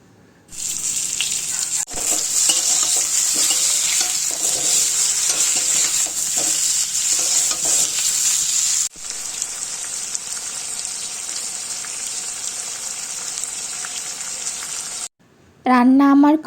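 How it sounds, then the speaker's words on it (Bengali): Meat with Malabar spinach sizzles and frying steadily in a pan as it is stirred, a loud continuous hiss with scraping that briefly stops before a short final burst. "আজকের পুঁই শাক দিয়ে মাংস রান্না করব।"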